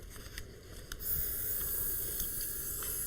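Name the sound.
airbrush spraying color onto a cake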